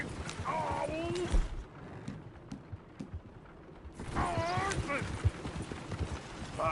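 Horse hooves clip-clop on a road in the Red Dead Redemption 2 western video game, with creaking coach sounds and voices talking over the trotting.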